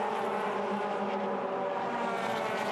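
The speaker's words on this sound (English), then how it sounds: "The 2-litre flat 4 with that distinctive sound." Toyota 86 race cars with 2-litre flat-four engines roar continuously at Sydney Motorsport Park. The steady, dense engine drone sounds somewhat distant and blended, with no talking over it.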